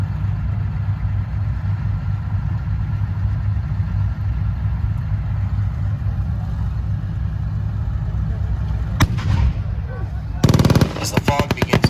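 At a tank battle reenactment at the Canadian Tank Museum, a steady engine idle rumbles throughout before rapid machine-gun bursts crackle loudly near the end.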